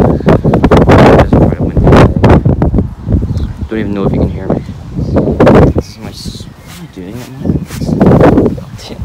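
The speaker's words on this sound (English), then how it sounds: "I'm sure you can't even hear me because it's a storm." Strong wind buffets and roars across the microphone in gusts at an outdoor pumpkin patch while a person talks loudly over the storm.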